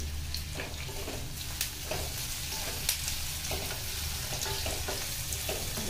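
Onions frying with a little salt in a pan for rajma, a continuous close sizzle with scraping stirs and light clinks from a utensil against the pan.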